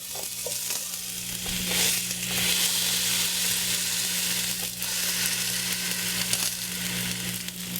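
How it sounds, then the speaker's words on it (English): Food searing in a hot pan for a lentil dish, with a loud, dense, steady sizzle that is close and continuous, plus a few faint stirring sounds. "I'll get the sear right there"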